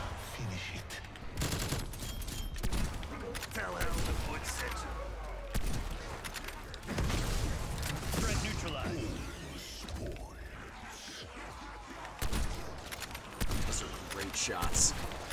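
Dense gunfire from the video game Outbreak rattles in near-continuous bursts with mechanical clanks and heavier booms, while players talk over the fighting.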